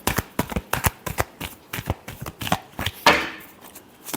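Tarot cards being shuffled by hand: a rapid string of crisp, close riffling flicks in an irregular rhythm, ending in one longer brushing riffle.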